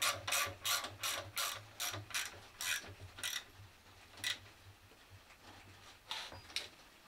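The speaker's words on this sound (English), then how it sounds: "with the pump tensioned, the bolts can be done up fully" A ratchet clicks in quick bursts, close but quiet, tightening the pump bolts on a MK1 Renault Trafic with a 2.2 engine. Clusters of sharp clicks give way to sparser strokes with short gaps.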